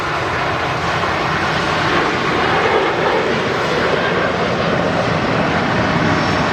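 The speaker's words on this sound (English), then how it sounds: "Now departing, Ryanair to Shannon." Ryanair airliner departing Manchester Airport, its engines roaring loud and steady at full power throughout, a broad continuous jet rumble with no talk over it.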